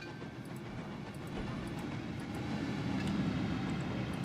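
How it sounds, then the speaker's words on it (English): A train rolls along in Trainz Railroad Simulator 2019 on the Sebino Lake Orient Express route, a low, steady rumble of wheels with faint clickety-clack that builds slightly, heard alone at modest volume. "Just following this train along."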